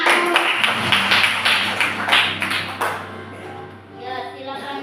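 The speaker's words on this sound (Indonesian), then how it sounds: "Ya, anak-anak semua tepuk tangan." Children in a classroom clapping their hands together in a quick rhythmic burst, loud and close, then fading into quieter room noise with faint voices.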